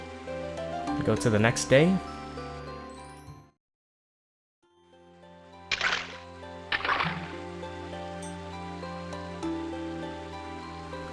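Watering turnip crops in the farming game RPGM2 produces a couple of short, splashy pours in the second half, following a stretch of talk and a brief silence, over a steady game music bed.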